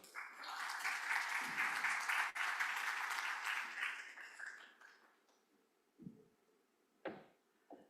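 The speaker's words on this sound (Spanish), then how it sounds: "un aplauso a la doctora Rosalba" An audience at a medical symposium for doctors applauds a speaker with steady, dense clapping that holds for several seconds and then fades, followed by a few quiet isolated thumps.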